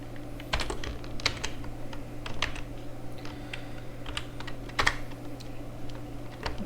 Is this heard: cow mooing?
no